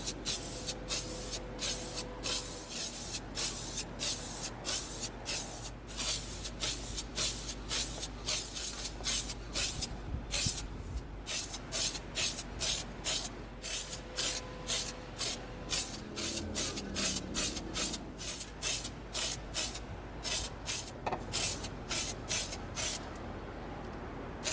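Rapid rhythmic bursts of spray paint coating an EVA foam prop rifle with flat antique nickel finish, dozens of short hissing sprays in quick succession, close and steady throughout.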